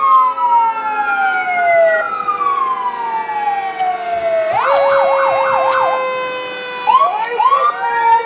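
An ambulance siren passes in a Christmas parade in Wells, Maine, sweeping slowly down, then switching to a rapid warbling yelp before wailing again, loud and fairly close.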